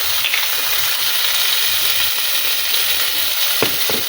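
Hot oil in a pan where basmati rice is being cooked gives a steady, close sizzling hiss, with a couple of sharp utensil clacks near the end.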